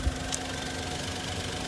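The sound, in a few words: Maruti WagonR VXI petrol engine idling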